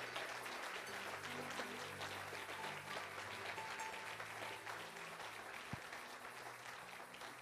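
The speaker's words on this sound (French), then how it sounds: "On va acclamer le Seigneur pour le groupe musical." A church congregation applauds steadily in acclaim of the Lord for the music group, a dense, even wash of clapping from many hands with a faint murmur underneath and no clear speech.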